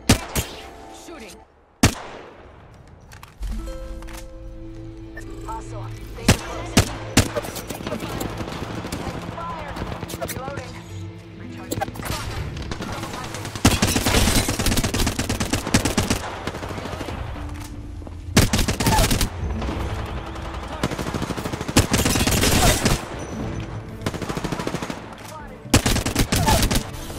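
Gunfire in the battle royale shooter Apex Legends, bursts of automatic fire and scattered single shots over a busy game soundscape, with players talking over parts of it.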